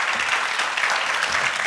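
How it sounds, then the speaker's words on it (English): A room of listeners at a digital innovation event claps for the panelists, producing a brief burst of loud, even applause with no voices over it. "a big round of applause for our panelists"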